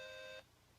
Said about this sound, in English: That's my phone. Somebody's giving me a text.